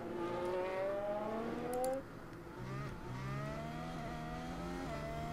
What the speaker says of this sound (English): I heard the sound of the car taking off